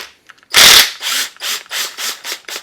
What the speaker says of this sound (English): I have a 3/8 cordless impact gun.